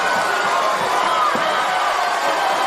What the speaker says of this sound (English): Piping up the Spectres crowd.